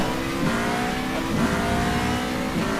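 Formula Renault 3.5 race car engine in rFactor2 at the Malaysia circuit, a steady high-pitched whine in second gear through the last corner, with short downshift-like dips roughly every second and a faint tire edge, loud and alone.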